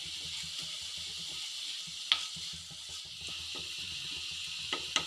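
Fish pieces and brinjal sizzle steadily as they fry in a pan, with soft stirring scrapes and a couple of sharp clinks; the sound is quiet and close, with no talking.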